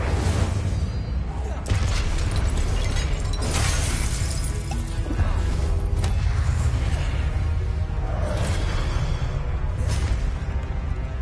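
Dense, continuous video game combat in Hogwarts Legacy, with repeated Incendio fire spell casts bursting through crashing, crackling effects and spell impacts, as a voice shouts spell names over the clamor.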